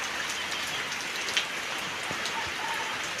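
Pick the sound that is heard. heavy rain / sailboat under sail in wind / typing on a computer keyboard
heavy rain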